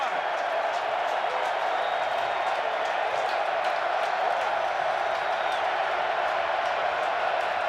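A large crowd at an XFL football game cheers and applauds in a continuous, broad roar, with a few whistles rising above the sustained noise.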